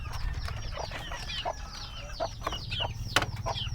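Backyard chickens cluck in quick, overlapping bursts close by, a busy chatter of short calls with a few sharper squawks over a low background rumble.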